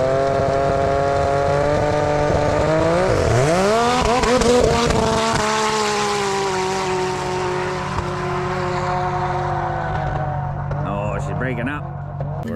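A drag racing car makes a pass, its loud engine climbing through rising revs with a sharp shift partway through, then fading as the run ends, under a voice talking.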